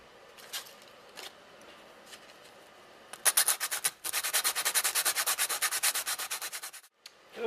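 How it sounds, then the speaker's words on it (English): Hand sanding on a modified Bumble Bee stove, with a few light scrapes at first and then a quick, even run of loud rasping back-and-forth strokes that stops at the end. "So let's just sand this a little bit."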